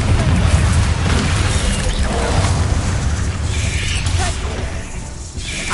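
Confringo blasting spell in Hogwarts Legacy, a loud rumbling explosion with heavy low boom and crackling debris that slowly fades over several seconds, no voice.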